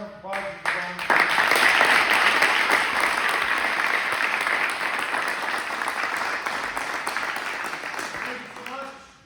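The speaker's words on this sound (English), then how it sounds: "I want everybody to round of applause for Jabron." A room of basketball families at an end-of-season awards event breaks into sustained applause, dense clapping that swells and then fades out, with some voices mixed in.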